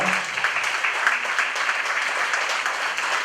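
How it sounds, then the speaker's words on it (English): Audience applause at a regional Labor Day retreat honoring blood donors, a dense continuous patter of many hands clapping at moderate loudness throughout. "So please give them a big round of applause."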